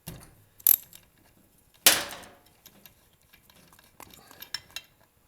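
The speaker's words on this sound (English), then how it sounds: "I'm going to remove the spark plug wire, remove the spark plug" Spark plug being removed from a Husqvarna chainsaw during a compression test: a few sharp metallic clinks and a short scraping rattle of tools, followed by small scattered ticks and taps in a quiet room.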